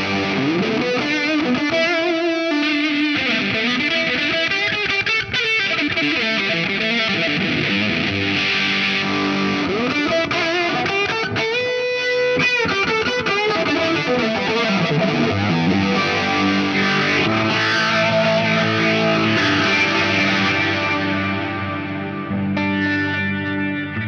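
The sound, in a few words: distorted electric guitar through effects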